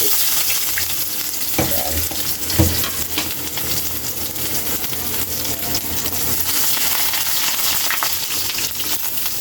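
Garlic sautéing in hot oil as pork liver adobo cooking begins, a loud steady frying hiss with a couple of stirring knocks early on, no voices.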